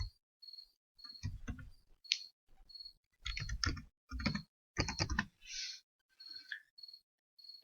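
Typing a meeting title on a computer keyboard: soft clusters of quick key clicks in short bursts separated by pauses, close but quiet, with faint higher clicks between them and no speech.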